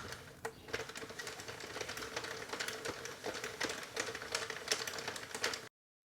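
A Sentro 48 knitting machine cranked through rows of waste yarn, giving quiet, rapid, rhythmic mechanical clicking and clattering that runs steadily, then cuts off abruptly.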